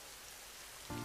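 Steady, dense rain falls continuously on surfaces outdoors, a soft uniform hiss throughout with a slight swell at the very end.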